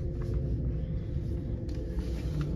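An electric pickup truck gives a low, steady hum and rumble while driving, close and continuous with a faint whine above it.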